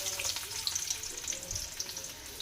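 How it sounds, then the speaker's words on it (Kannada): Chopped onions sizzle steadily in a pan over a kitchen stove, a continuous soft crackling hiss with faint clinks and a low thump, moderately quiet and close, without talking. "ಈ ರೀತಿ ಹಾಕ್ಕೊಂಡು ಉಳ್ಳಾಗಡ್ಡಿ ಫ್ರೈ ಮಾಡ್ಕೊಳ್ಳೋಣ್ರಿ"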